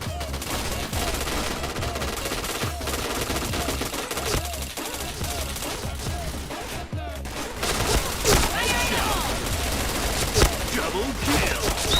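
Rapid bursts of automatic gunfire rattle through a shooter video game, repeated volleys of fast shots layered over background game sounds for twelve seconds.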